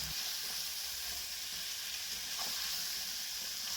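Potatoes and prawns with salt and turmeric are stirred and fried in oil, producing a quiet, even, unbroken sizzle with only faint hints of movement in the pan.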